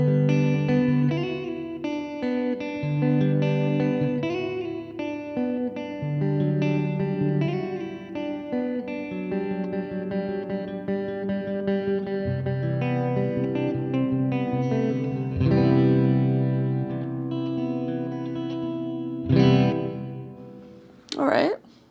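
Electric guitar playing sustained chords and melodic lines through a Fender Hammertone reverb pedal set to normal mode, loud and close with a wash of reverb tail, a sharp strum burst near the end.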